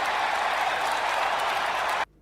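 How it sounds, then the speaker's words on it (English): A crowd cheers and applauds loudly in a dense, continuous roar for about two seconds before it is abruptly cut to near silence. "We cut that crowd cheer off for you, LeBron"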